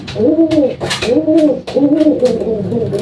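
Racing pigeons molting at the neck coo in repeated rounded phrases, close and fairly loud, with short pauses between the bursts.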